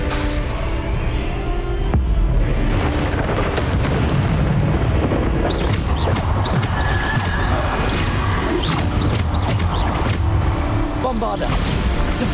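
Bombarda spell blasts in the Hogwarts Legacy video game, loud booming explosions and crashing debris layered over a dense, continuous combat din, with a player shouting spell names throughout.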